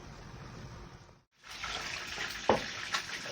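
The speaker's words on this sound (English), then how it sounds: "Water, my people. Water, water, water," Water running from a kitchen tap while cooking, a steady close stream that cuts off briefly, then resumes with splashing.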